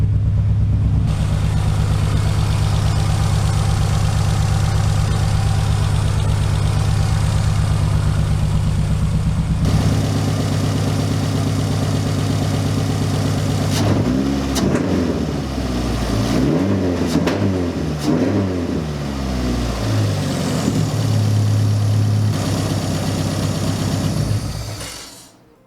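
A Rally Neon car engine running loud and close after its first start in six years, holding a steady rough idle and then revving unevenly with rising and falling pitch before cutting off.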